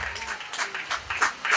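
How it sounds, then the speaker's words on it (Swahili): A church congregation at a Sunday service applauds in quick bursts of clapping, with voices mixed in over the brief stretch. "Piga Yesu makofi mengi mengi"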